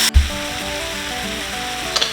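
Deer meat sizzles loudly and steadily as it browns in a pan for stew, with a brief stir or clatter at the start and near the end.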